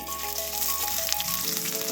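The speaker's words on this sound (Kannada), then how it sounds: "ಎಣ್ಣೆ ಬಿಸಿಯಾಗಿದ್ದೆ ಈರುಳ್ಳಿ ಹಾಕ್ಕೊಳ್ತಾ ಇದ್ದೀನಿ" Onion drops into hot oil in a pan for tempering a dried-fish sambar, giving a loud, continuous sizzle and crackle that drops sharply partway through as the frying settles.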